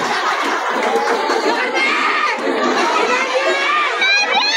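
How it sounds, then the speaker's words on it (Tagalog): A large crowd of supporters shouts and cheers at a packed political rally for Isko Moreno in Sampaloc, a dense, continuous roar of voices with some higher-pitched cries, fairly close and loud throughout. "Baka mga sigawan din yan."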